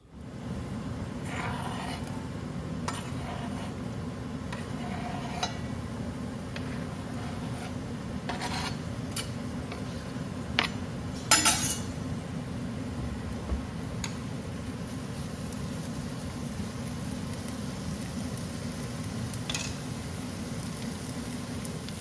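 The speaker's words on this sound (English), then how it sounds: "I'm going to put some oil in my pot and saute that onion a little bit" Chopped yellow onion sizzles steadily in hot oil in a pot, a constant soft frying hiss with occasional small ticks and scrapes, fairly close and with no voices.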